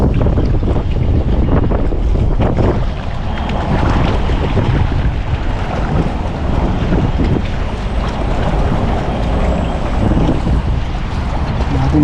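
A strong headwind batters a fishing boat out on the sea, making loud, continuous wind roar and microphone buffeting over the sound of the water and waves, with no talking.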